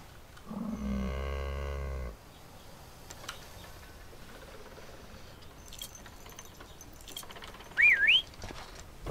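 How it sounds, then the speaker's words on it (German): A single person gives a short, rising-and-falling whistle near the end, heard alone over faint background noise. Earlier, a deep droning animal-like tone sounds for about two seconds. "Nicht pfeifen."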